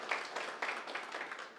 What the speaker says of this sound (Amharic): እባካችሁ ሞቅ ያለ ጭብጨባ